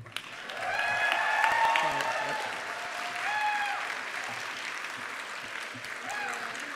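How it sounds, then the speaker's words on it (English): Audience applause at a medical school white coat ceremony for an entering class, a sustained wash of many hands clapping that swells and then settles, with a few faint voices mixed in. "please join me for a round of applause for the class of entering 2019."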